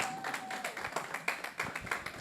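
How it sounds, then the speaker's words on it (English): An audience at an app launch event claps together in a quick, steady run of close hand claps lasting about two seconds, with no speech over it. "A round of applause for yourselves."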